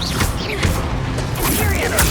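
Spell blasts in Hogwarts Legacy, such as Confringo, Bombarda and Incendio, form a loud, continuous wash of crashing, fiery bursts and whooshes with no clear gap between them.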